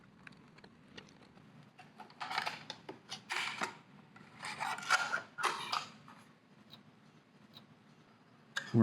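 Screws being backed out of a plate on a Weinschel 8311 programmable RF step attenuator, a close run of small ticking, clicking and creaking metal sounds in bursts, with no talking.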